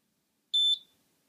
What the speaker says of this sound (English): We should hear beep once it connects.